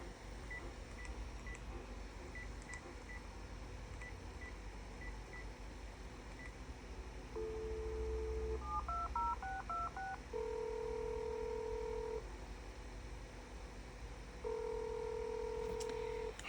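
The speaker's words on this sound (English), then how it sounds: "I gotta pick up my trusty landline phone for this." A landline telephone being dialed: soft keypad beeps and a string of clear touch-tone notes sound over quiet room noise, followed by a held tone and a second ringback-like tone.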